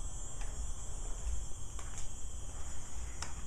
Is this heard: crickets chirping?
yes